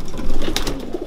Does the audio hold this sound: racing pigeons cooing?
yes